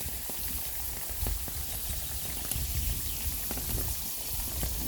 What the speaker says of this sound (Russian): Так вот жарится морковь